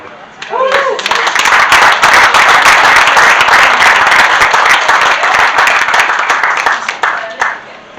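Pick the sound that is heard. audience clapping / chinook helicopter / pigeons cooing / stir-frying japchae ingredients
audience clapping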